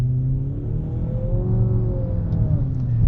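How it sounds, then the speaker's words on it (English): A 2023 Nissan Altima SR VC-Turbo accelerates hard in sport mode from inside the cabin, its turbocharged engine droning steadily and rising in pitch, loud and continuous throughout. "I just put it into its sport mode, and let's do a quick little acceleration."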